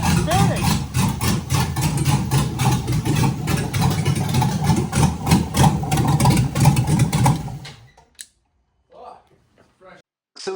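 A Jeep with an LS engine swap idles loudly and steadily up close for about eight seconds, then cuts off abruptly, leaving near silence with a few faint knocks and rustles.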